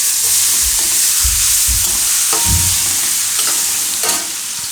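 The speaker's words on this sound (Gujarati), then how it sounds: "આ રીતે મિક્સ કરી અને એમાં આપણે નાખી દઈએ કેપ્સિકમ." Capsicum sizzles steadily in hot oil with spices for Gujarati Jain pav bhaji, with a spoon scraping and stirring the pan in several distinct strokes, loud and close, with no talking.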